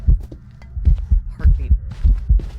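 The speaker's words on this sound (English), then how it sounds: "Heartbeat. Hear how deep that sounds?" Deep, thudding heartbeat pulses during a ghost hunt in the Phasmophobia video game as a Raiju ghost hunts, beating in a quick, regular rhythm with low booming thumps, close and loud.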